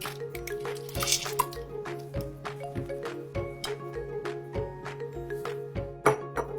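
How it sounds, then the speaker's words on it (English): A whole jar of marinara sauce glugs into a slow cooker in a run of wet plops and squelches, with faint clinks of the glass jar, heard close with no talking. "Just a whole jar of marinara sauce."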